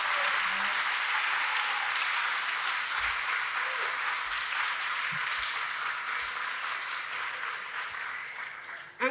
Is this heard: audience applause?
yes